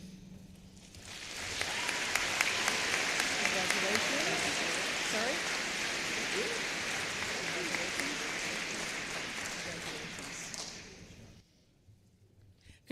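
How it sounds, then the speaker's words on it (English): A crowd at a commencement ceremony gives the top scholars a round of applause, dense sustained clapping that rises quickly, holds for about ten seconds, then fades away. "Please give them one more round of applause."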